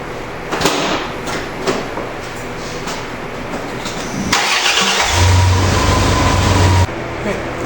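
First start of a Dodge Dakota V6 engine with a new starter: a close, loud cranking burst, then the engine catches into a steady, rough-edged run before cutting out.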